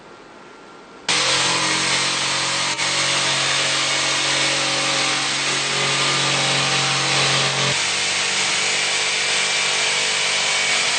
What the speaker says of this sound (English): cut around the window and pull the panel out